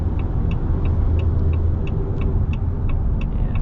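A steady, deep V8 Hemi engine rumble from a 2026 Ram 1500 Big Horn pickup idles close by, with a faint regular ticking running over it.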